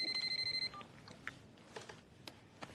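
A telephone rings with a steady, repeated electronic trill for under a second, then stops as the call is picked up, leaving a quiet indoor room with faint clicks and rustles.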